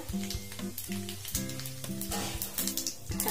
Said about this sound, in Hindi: पहिले जीर पका लै छियै जीर के